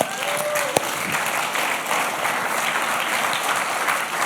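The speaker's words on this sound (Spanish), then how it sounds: "Dale un aplauso, Señor." A church congregation during a sermon breaks into steady, even applause, a continuous wash of many hands clapping at a fair distance, with one brief sharp knock early on.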